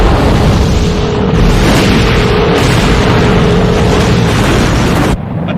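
A blown gas field erupts in a massive, sustained roaring blast, loud and close, rumbling continuously for about five seconds before cutting off abruptly.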